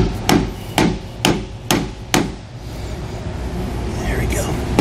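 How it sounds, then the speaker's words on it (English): A hammer taps a block of wood to seat a bronze Dexter bushing on a 2019 CrossRoads Redwood trailer: five sharp, evenly spaced knocks close by, followed by quieter background noise. "you take a block of wood, something like this, put it on the end, and just start to tap it with a hammer"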